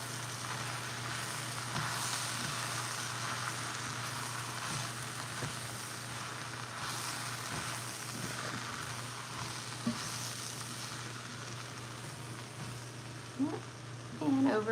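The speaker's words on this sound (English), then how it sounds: "We'll sprinkle it over, we'll kind of stir it up" Sausage and potato soup being stirred in a pot gives a soft, continuous simmering hiss with faint scraping, with a low steady hum beneath and a few light clinks near the end.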